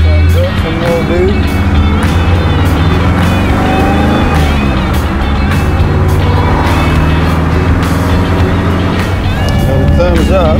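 A 1955 Chevy Bel-Air engine runs steadily after a carburetor rebuild, a loud, close, continuous rumble with slight swells in pitch, while voices talk over it throughout.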